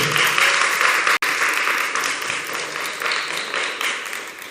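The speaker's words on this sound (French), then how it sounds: "Vous pouvez l'applaudir s'il vous plaît." Sustained applause from a conference audience, dense clapping throughout with a brief break early on.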